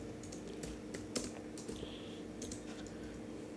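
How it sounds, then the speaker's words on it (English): Computer keyboard typing Java code for a Swing tutorial, a fast steady run of close, light key clicks that carries on throughout with no talking. "Now here I have to just type in the message, like the sum is"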